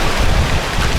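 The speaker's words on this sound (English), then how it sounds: "It's nice and windy." Strong wind buffets the microphone in a loud, continuous roar with low rumbling gusts throughout.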